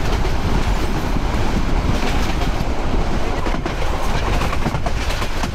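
Heavy, unbroken rumble of the Chattala Express intercity train in Bangladesh, approaching Dhaka Airport station on double-line track, with steady clickety-clack of wheels over rail joints, close and loud with no voices.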